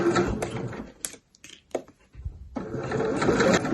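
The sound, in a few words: sewing machine stitching fabric for pencil case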